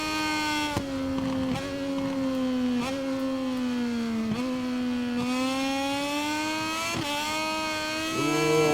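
Moto2 motorcycle racing on the Austria circuit in MotoGP 22, a loud continuous engine whine that dips and climbs with repeated gear shifts, then spikes near the end as the rear tyre spins.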